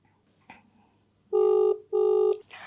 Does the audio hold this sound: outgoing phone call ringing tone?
yes